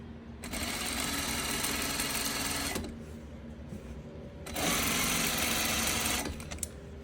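A sewing machine stitches together the outer and liner fabric of a tote bag, running in two long, steady bursts separated by a short pause, close and loud with no talking.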